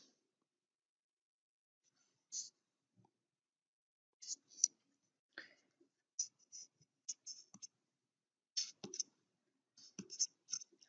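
A pen or pencil scratches across graph paper in short, faint, intermittent strokes separated by near silence.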